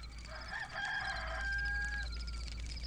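A rooster crows once in a long drawn-out call that rises and holds before trailing off, fairly clear over a low steady hum, with no talking.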